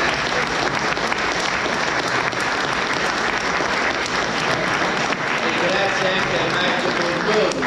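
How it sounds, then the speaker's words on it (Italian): Sustained, dense audience applause fills a book presentation about Palazzo Giustiniani, loud and unbroken from start to finish, with a few tonal sounds emerging near the end. "vi invito tutti a fare un applauso"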